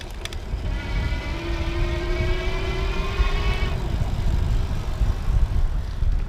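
A Pedego Latch electric bike pulls away on throttle with a rising motor whine that holds for a few seconds and then cuts out, under steady outdoor rumble and road noise.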